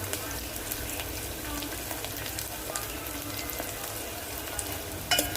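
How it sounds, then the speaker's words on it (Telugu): Curry leaves frying in a pan of hot oil while making tomato rasam, a steady close sizzle and crackle that runs the whole time, with a few sharp pops near the end. "కొద్దిగా కరివేపాకు ఇవి బాగా ఫ్రై అవ్వాలండి"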